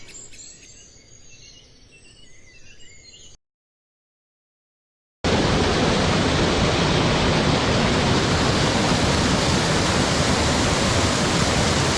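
A rain-fed stream or waterfall in the Kudremukh hills of Chikkamagaluru during rain: faint insects and birds at first, a short silence, then a loud, steady, close rush of water that fills the rest.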